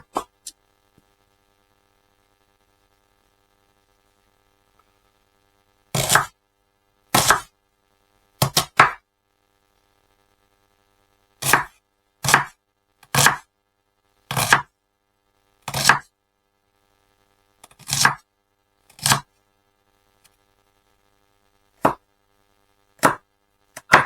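Bacon rashers and onion go into a Ridgemonkey pan for a cheese, bacon and onion omelette: about a dozen sharp, close knocks and plops come in irregular pairs and singles, separated by silence.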